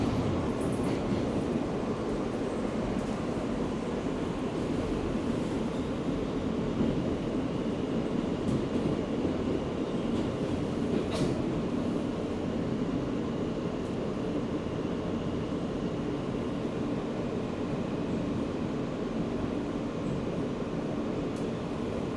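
Steady rumbling roar inside a New York City subway car riding from Times Square toward the Financial District, dense and continuous, with faint squeals and rattles over the drone and no talk.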